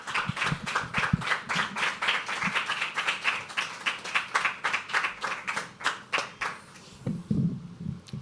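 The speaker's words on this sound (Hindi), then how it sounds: "बहुत बढ़िया, तालियां एक बार फिर हो जाए दोस्तों।" An audience at a poetry reading applauds steadily, with many hands clapping in a fast, even patter that keeps going for several seconds, then thins out and fades near the end.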